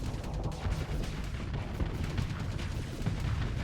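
Flak cannons firing in Starsector, a space combat video game: a dense, continuous barrage of booming bursts, loud and rapid, with no clear gaps between shots.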